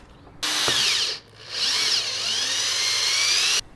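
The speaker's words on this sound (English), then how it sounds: "Drilling the pilot hole." A power drill drilling a pilot hole whines at high speed, briefly easing off before spinning up again and running steadily until it stops.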